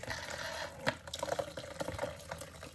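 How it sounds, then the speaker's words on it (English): Homemade bone broth is poured from a pot through a sieve into a pan at a sink, giving a soft, steady liquid splashing and trickling with a few small clinks, fairly quiet. "you literally just pour it in"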